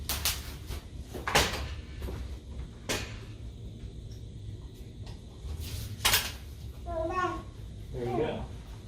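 A Lectric XP 3.0 step-thru ebike frame folds and latches with several sharp metallic clacks and knocks, close and fairly loud, while people talk briefly near the end.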